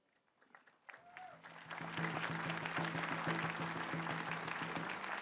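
Sustained applause from an audience at the grand opening of the Walter Soboleff Building in Juneau, Alaska, honouring veterans; clapping swells after a quiet start and stays dense and steady, with a low steady hum and a faint brief voice early on.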